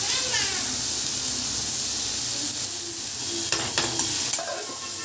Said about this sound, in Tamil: தக்காளி போட்டாச்சு, இது நல்லா கொஞ்சம் வதங்கட்டணும்